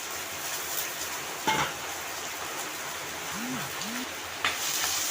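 Soft, steady rain patters in the background with a few brief clatters and low sliding tones over the constant hiss.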